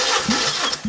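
Suzuki Liana with a 1.6 litre M16A engine cranking on the starter during a compression test on the first cylinder, a brief near whirring crank with rhythmic compression pulses.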